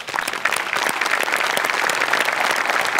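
A theatre audience at a comedy show breaks into loud, dense applause that holds steady throughout, close and with no talk over it.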